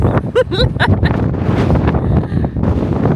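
Strong January wind on the Isle of Skye buffets the microphone in loud, rumbling gusts that keep rising and falling, with faint voice-like sounds partly buried in the roar.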